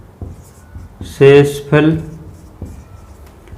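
Pen strokes from handwriting out a Class 10 Euclid division maths problem, soft scratching mostly beneath a man's clear, close speech.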